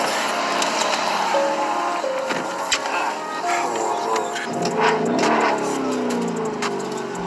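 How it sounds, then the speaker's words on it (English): A Cadillac engine revs hard with a sporty, race-car-like roar, rising and falling in bursts over steady street noise, with voices faintly in the background. "I didn't know they had a caddy sounding like that"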